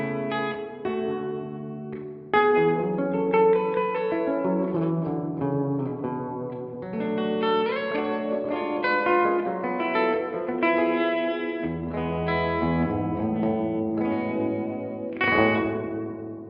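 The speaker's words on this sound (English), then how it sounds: "You can put a bit of modulation on your delayed signal, on your reverb signal, sorry. Which which you can hear there." Instrument played through a UAFX compact reverb pedal with modulation on the reverb, lush sustained notes and chords washing into a wide, shimmering wet tail that fills the whole stretch without talking.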